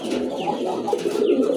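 Large blue pigeons coo in soft, rolling low calls close by, a short continuous burble of overlapping coos.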